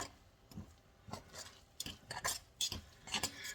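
A fork stirs homemade Mexican rice in a pot, giving a series of soft, irregular scrapes and light metallic ticks close up, with no talk.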